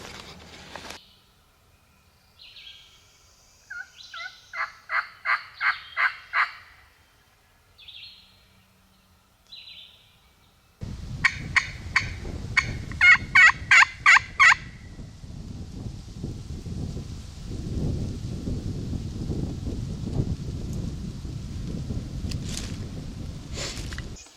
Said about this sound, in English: Moving in on a bird that was gobbling his face off there for about 10 minutes.